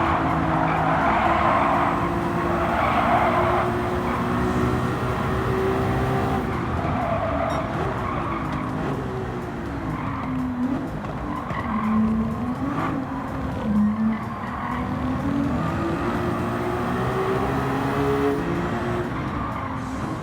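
A 2022 Ferrari 296 GTB with 818 horsepower races in Gran Turismo 7, its engine revving up and down through gear changes with tires squealing through corners, loud and continuous.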